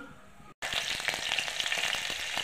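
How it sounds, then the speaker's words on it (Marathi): Cumin and mustard seeds crackle and pop in a ladleful of hot oil in a pot: a dense, steady sizzle close up, with rapid irregular pops throughout after a brief cut near the start, and no voices. "जिरं मोहरी तडतडू द्यायची"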